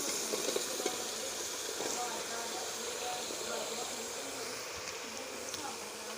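Pumpkin goes into hot tarka masala, giving a steady, close sizzle and buzz of frying that continues evenly with a few soft clinks.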